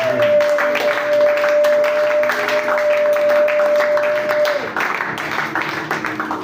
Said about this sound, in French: Applaudissez pour le Seigneur.